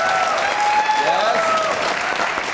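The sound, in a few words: audience applause for guests at a live show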